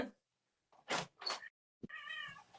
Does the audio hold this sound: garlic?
no